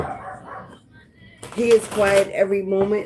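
A pet dog barks and yips in short bursts in the background, starting partway through and continuing loudly over a person talking indoors.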